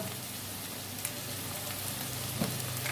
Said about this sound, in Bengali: আর দেবো লঙ্কা গুঁড়ো ভাল লঙ্কা গুঁড়ো ভেজে নেব